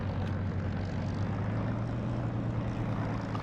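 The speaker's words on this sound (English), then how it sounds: "My usual startup in a Spitfire" A Spitfire's piston engine idles in the DCS flight simulator, a steady loud droning hum with a strong low tone throughout.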